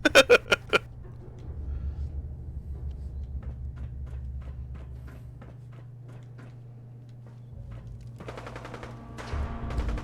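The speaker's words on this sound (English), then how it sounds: "I hear shooting." Gunfire in Fallout 4 opens with a quick burst of loud shots, followed by a run of fainter, evenly spaced distant shots over a low hum, then a denser volley near the end.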